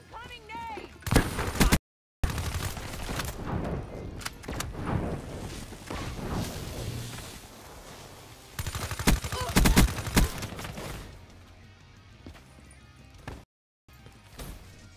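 Rapid submachine-gun bursts from the Weevil SMG in the shooter Black Ops 3, a fast-firing gun with easily managed recoil, crackling in loud repeated volleys over busy game noise with brief silent gaps.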